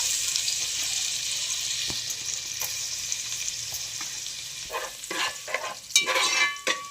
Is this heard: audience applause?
no